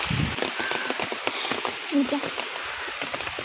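Rain falls steadily outdoors, a continuous soft hiss with scattered patters of individual drops, moderately quiet throughout.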